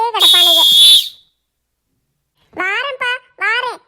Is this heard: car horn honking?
no